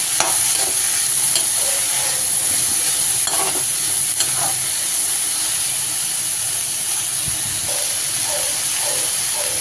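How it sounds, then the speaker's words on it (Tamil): Green beans stir-fried with softened onions in a pan give a constant loud sizzle and hiss, broken by scattered scraping clicks of a stirring spoon. "பீன்ஸை சேர்த்து நல்லா வதக்கிக்கலாம்."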